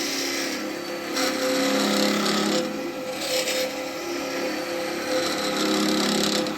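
Woodturning tool hollowing out a spalted wood vase on a lathe, a continuous close scraping and rasping cut with shifting intensity and brief dips between passes.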